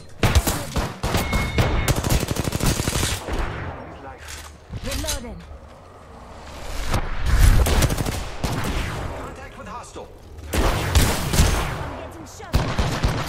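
Rapid bursts of gunfire from an Apex Legends firefight, loud and close, coming in clustered volleys and sustained automatic streams with short lulls, mixed under frequent talk.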